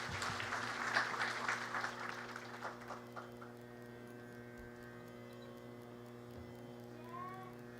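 Audience applause welcomes a singer on stage at a 50th birthday celebration, a full burst of clapping that thins and fades over several seconds, leaving a steady mains hum.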